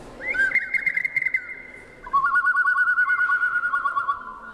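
Two long, clear whistled bird calls follow one another, each a sustained tonal note with a warbling texture, loud and close with no talking.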